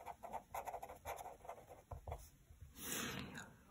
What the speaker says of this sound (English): I'll just write down how to figure out the solution.